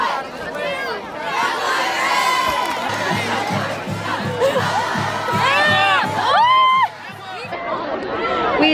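A young crowd at a high school football game, cheering, shouting and chattering loudly as a steady roar, with rhythmic thumps and excited voices rising above it.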